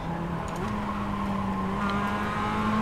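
Mazda MX-5 race cars compete at Oulton Park in an ARC MX-5 League round, engines droning and shifting pitch as they run close together, heard alone at moderate distance.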